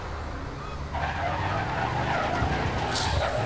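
A car in a video game skids and flips over a railing, a loud sustained tire screech and scraping rising after a quieter engine drone, with a faint voice in the background.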